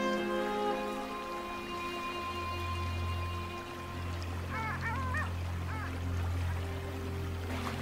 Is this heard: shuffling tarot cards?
no